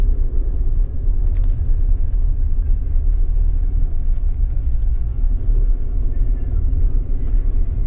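A vehicle in two-wheel drive, on BF Goodrich KO2 tyres worn by 30,000 miles, slides over ice and snow, with a steady, loud, low road rumble and drone from the cabin throughout.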